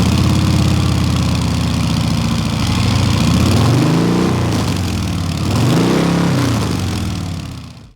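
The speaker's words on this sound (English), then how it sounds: "The Sport Glide has a 2-into-1 exhaust with the catalyst in the muffler." Harley-Davidson Sport Glide motorcycle with the 107 engine and a 2-into-1 exhaust holding the catalyst in the muffler, rumbling loudly and steadily at idle, then rising in two smooth revs before settling, with no talk.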